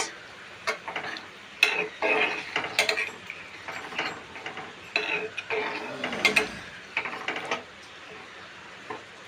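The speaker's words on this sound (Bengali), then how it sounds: "সবজিটা একটু মিক্স করে লাইতেছি" Vegetable curry stirred in a metal pan with a spoon after water is added, repeated scraping and clinking strokes in an irregular rhythm, close and fairly loud, with no talk.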